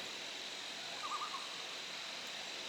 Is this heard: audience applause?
no